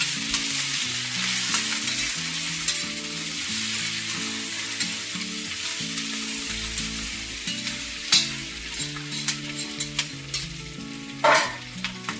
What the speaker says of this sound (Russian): Все хорошенько еще раз перемешиваем.